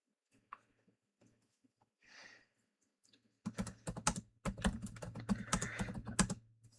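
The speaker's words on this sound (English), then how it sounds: "keyboard mashing session." After a quiet stretch with faint breathing, a computer keyboard is mashed in a frantic burst of rapid, close, clattering keystrokes.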